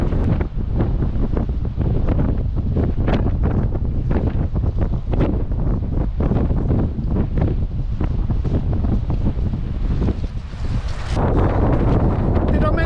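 Strong wind buffets the microphone in continuous roaring gusts, loud and rough throughout, with surf-like rushing underneath.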